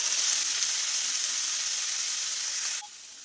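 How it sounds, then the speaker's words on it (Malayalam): Chopped mussels frying in a hot pan with salt for Kerala kallummakaya thoran, giving a steady, loud sizzle that drops abruptly to a quieter hiss near the end, with no talking. "അതിനുശേഷം നമ്മൾ കട്ട് ചെയ്ത് വെച്ച കല്ലുമ്മക്കായ ഇട്ട് കൊടുക്കാം"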